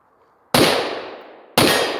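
Two sharp handgun shots fired at a target during concealed-carry firearms training, about a second apart, each loud close crack followed by a long ringing outdoor decay, no talking.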